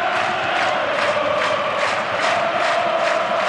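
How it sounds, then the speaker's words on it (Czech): Chanting applause from a sold-out football crowd in the stands at Strahov stadium during a Slavia Praha match against Ajax, a continuous loud roar with rhythmic clapping pulses roughly every half second, massed and distant. "Trenér hostí Henk ten Katé si teď může poslechnout skandovaný potlesk vyprodaných strahovských tribun"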